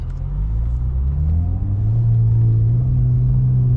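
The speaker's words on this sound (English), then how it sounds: "I'm just gonna show you a light acceleration in D mode because it is going through the gears really, really quickly." A BMW with the N54 engine and an Alpina transmission flash accelerates gently, its engine rumbling low and rising in pitch as it shifts quickly through the gears. The rumble stays close and steady throughout.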